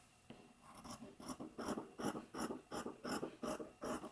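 Fabric scissors trimming a sewn seam allowance, about ten crisp rasping snips in a steady rhythm, close and fairly quiet with no one talking.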